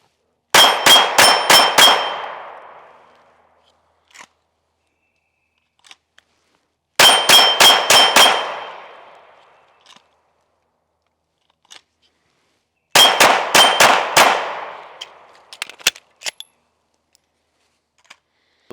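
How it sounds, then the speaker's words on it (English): Shadow Systems DR920P pistol fired at steel popper targets in three separate bursts of about five quick shots each, sharp ringing cracks with clanging decay, then a few faint clicks and taps between strings. "We're gonna fire 5-round shots on the popper targets and see how this thing handles it."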